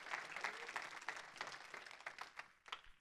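A church congregation applauds during a worship service, a faint, uneven patter of clapping from many hands with a few louder claps standing out near the end.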